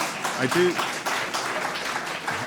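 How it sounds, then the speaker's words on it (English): Audience applause at a school hall question panel event, a moderate spread of clapping under a speaking voice heard over it. "You're not going to be applauding in a second."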